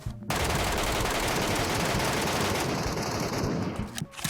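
Automatic gunfire from PUBG Mobile Metro Royale rattles in one long, loud burst of rapid shots lasting about four seconds, with a brief break and a final shot at the end.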